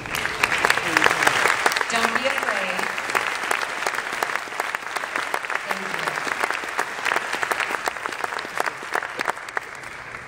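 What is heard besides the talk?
audience applause for choir educators at concert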